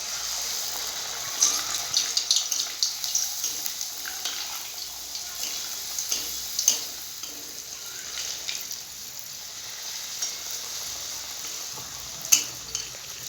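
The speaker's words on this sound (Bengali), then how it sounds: "এবার আমি লুচিটা তেলের মধ্যে ছেড়ে দিচ্ছি। তেলটা গরম হয়ে গেছে।" Wheat flour luchi sliding into hot oil and frying, a steady soft sizzle with faint crackles and bubbling that stays moderate throughout, no talking.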